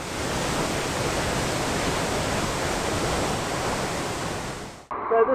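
Loud, steady rush of a rain-swollen creek pouring down a volcano hiking track in Indonesia, where heavy rain has turned the path into a small river; the broad roar fills the clip, then cuts off abruptly near the end.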